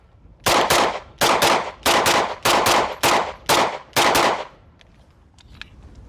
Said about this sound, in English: It's such a flat shooting gun.